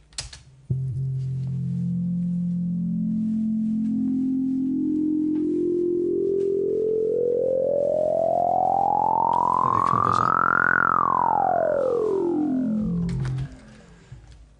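A synthesized buzzy tone of stacked harmonic-series partials, growing fainter and closer together as it rises, glides steadily upward for about ten seconds, then swoops back down quickly and stops, loud and continuous.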